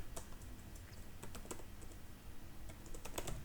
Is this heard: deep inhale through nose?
no